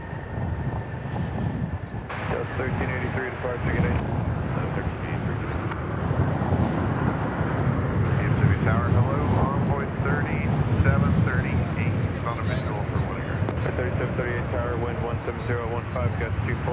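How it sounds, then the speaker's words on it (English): American Airlines Boeing 737-800 jet arriving at DFW Airport on a flight from Tulum, Mexico: a steady, broad roar holds throughout, mixed with gusty wind buffeting on the microphone. "737-800. This is arriving from Tulum in Mexico."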